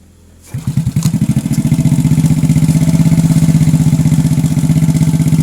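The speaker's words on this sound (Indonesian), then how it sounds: "kita akan coba hidupkan kembali untuk motornya" A Honda motorcycle, a Legenda or Supra Fit type, catches on a kick start and settles into a steady, close single-cylinder idle with an even pulsing beat that holds for several seconds.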